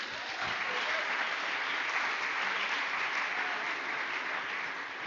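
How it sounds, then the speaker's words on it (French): A seated gathering at a talk on love applauds for a woman in a continuous, even wash of clapping that stays moderately loud and steady throughout. "Est-ce qu'on ne peut pas applaudir un peu pour elle?"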